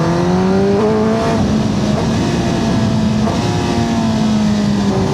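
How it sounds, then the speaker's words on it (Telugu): A Kawasaki ZX10R sportbike roars loudly and close on the road, its engine pitch climbing and then dropping in short steps as the quickshifter snaps through gears, with steady wind rush under the exhaust. "దీని ప్రతి క్విక్ షిఫ్టర్ అప్పుడు వచ్చే షార్ట్ సౌండ్స్ అయితే చాలా మ్యాడ్ ఉంది."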